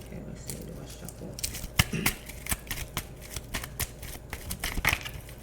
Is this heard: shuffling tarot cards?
yes